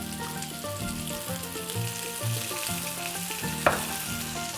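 Corned beef hash crackles and sizzles as it crisps in oil in a pan, a steady close frying hiss with one sharp clack partway through. Faint tonal background sounds run underneath, and nobody speaks.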